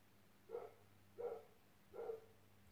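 A dog barks three times outdoors in a fenced yard, each bark short and spaced about a second apart, faint and somewhat distant over a steady low hum.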